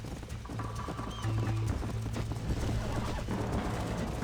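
Rhythmic clip-clop of horse hooves at a gallop in the video game Red Dead Redemption, loud and close, with a brief whinny and some background game-like tones.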